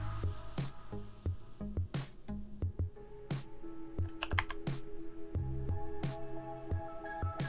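Fingers type a Linux command on a computer keyboard, quick close clicks and key taps in an uneven rhythm with a heavier keystroke or two near the end.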